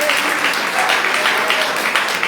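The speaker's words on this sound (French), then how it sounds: "On nous frappez maintenant encore pour nous applaudir bon Dieu ça." A church congregation claps and cheers continuously at close range, a dense, steady wash of hands with no pauses through the whole stretch, voices mixed faintly underneath.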